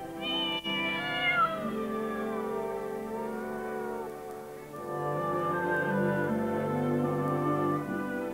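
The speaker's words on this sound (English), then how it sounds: "the cats of Mousehole gather and raise a great howling to the memory of old" Several cats in Mousehole howl together in long, drawn-out, wavering cries that rise and fall in pitch. The overlapping yowls are sustained and fairly close, with a brief dip midway before they swell again.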